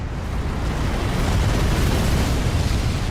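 A video game explosion in Fortune Street, a deep sustained roar of rumbling broadband noise that stays loud and steady throughout with no speech over it.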